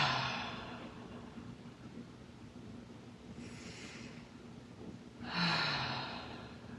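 Two deep breaths during a yoga practice, each a soft, airy exhale rising out of quiet background hum, the second slightly louder than the first, close to the microphone with no talking.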